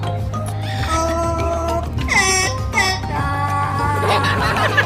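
A talking parrot at a Canadian wildlife safari park sings a short stretch of the national anthem in a warbling, whistle-like voice. Steady crowd and background noise sit underneath and no one else speaks.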